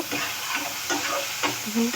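A spoon scrapes and stirs through small fish with peas and tomato frying in a pan, with steady sizzling and repeated stirring strokes close by.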